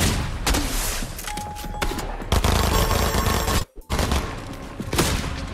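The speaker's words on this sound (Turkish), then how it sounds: "fişek tabancasını buldum. Ölmeden alayım şunu. Ve kullanayım." A flare gun fired in Fortnite, heard as dense, loud, close gunfire bursts that continue steadily, with a brief drop to quiet near the middle.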